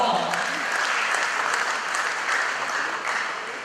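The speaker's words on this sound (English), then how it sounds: "I think he deserves a round of applause." Audience applause at an academic induction ceremony for graduating students, a full burst of clapping from a large hall crowd that holds steady for the whole span and eases slightly at the end.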